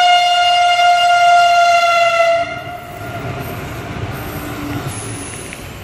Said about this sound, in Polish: O, pociąg jedzie.